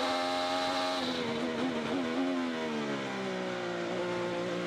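An IndyCar race car engine at full throttle on the St. Petersburg street circuit, bouncing off the rev limiter: a loud, sustained high-pitched whine that wavers briefly, then drops gradually in pitch as the car slows.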